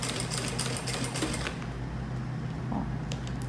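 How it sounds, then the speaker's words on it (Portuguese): A sewing machine stitches a folded fabric pencil case, a rapid steady mechanical hum and clatter that runs loud for about a second and a half, then drops to a quieter whir with faint ticks. "começa a costurar"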